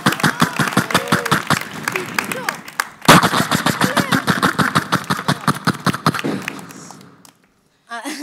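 A mimicry artist on stage vocally imitates a generator starting up, a fast chugging rhythm of repeated bursts that briefly cuts out, restarts and runs on before sputtering to a stop, with audience clapping mixed in.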